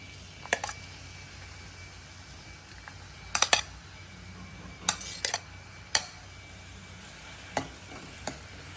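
One large onion fries in four spoons of ghee, a faint low sizzle punctuated by scattered sharp clicks and taps of a spatula against the pan, some in quick clusters.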